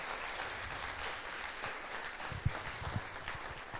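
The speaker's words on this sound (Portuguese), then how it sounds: "aplauda o Senhor" Church congregation applauding during a Portuguese-language sermon, a soft, distant wash of steady clapping with a couple of sharper claps standing out near the end.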